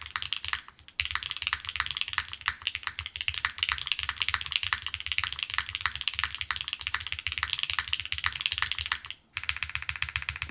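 Rapid typing on a Neo65 Core Plus mechanical keyboard, a dense stream of close, crisp clacks with a brief pause near the start and another near the end, no voices.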